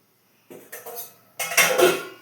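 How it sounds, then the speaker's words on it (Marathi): A metal kadhai (wok) set down on a gas stove gives two clattering metallic knocks of pots and pans, close and fairly loud, with a short pause between them. "गॅसवर कढई ठेवून आपलं तेल गरम करायला ठेवायचं"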